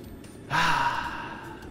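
A single long exhaled breath, soft and airy like a sigh, from the video game Lifeslide, rising suddenly after a near-silent start and fading slowly with no talking.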